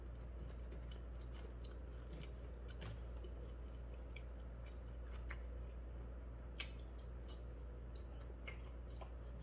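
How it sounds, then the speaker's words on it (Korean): Faint bites and chewing of a hot dog during a mukbang: soft, scattered mouth clicks and squishy chews sitting under a steady low electrical hum. "핫도그 먹을 만하네요."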